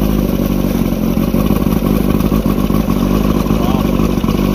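An old Mercedes engine cranks and runs roughly during a hard start, a loud continuous rattling engine clatter close by with no letup.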